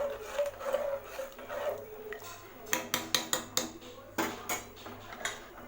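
A metal spoon scrapes and clinks against a cooker pot while stirring rice and lentils, a run of quick, sharp knocks, with a low background hum and no talking.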